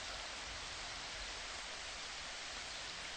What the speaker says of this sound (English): the refreshing patter of falling rain